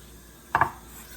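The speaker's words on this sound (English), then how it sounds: "So I'm just finely dicing the red onion" Knife dicing red onion finely on a board, heard as two quick, close chopping knocks in close succession, alone against a quiet kitchen background.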